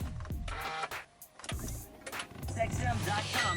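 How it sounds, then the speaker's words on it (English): A car being switched on for a footwell lighting install: a short electric whir and clicks, then a low mechanical rumble building under background noise, with a voice briefly present. "Turn the car on."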